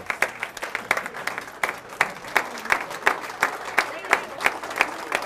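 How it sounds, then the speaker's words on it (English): An audience at a school end-of-year celebration claps steadily, a dense patter of many hands close by, with crowd noise mixed in throughout. "let's stand up and give them a round of applause."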